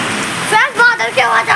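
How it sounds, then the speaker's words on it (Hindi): Heavy rain pours down in a steady, dense hiss, with a voice talking over it. "बारिश भी बहुत तेज हो रही है"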